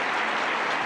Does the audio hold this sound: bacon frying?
no